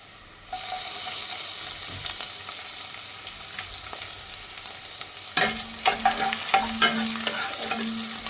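Chopped onion and garlic fry in hot oil with a steady, close sizzle, joined midway by a run of scraping stirs and spoon knocks against the pan.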